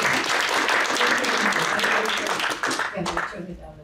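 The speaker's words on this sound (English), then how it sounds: "I'm going to give a round of applause and let's welcome Ute." A library lecture audience claps to welcome a speaker, a warm burst of many hands that thins and fades out over a few seconds, with some voices mixed in.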